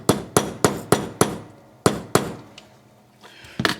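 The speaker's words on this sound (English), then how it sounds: "And then we're just going to take our brass hammer and tap it all the way in." Close, bright metallic taps from a brass hammer seating a crown tube in an Invicta 8926 Pro Diver watch case, a quick run of five strikes, then a pause, a few scattered ones, and a final double tap.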